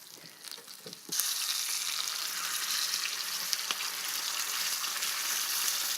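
Loud, steady sizzling of salmon frying in a hot pan, crackling and spitting close by after a quieter start, with occasional pops.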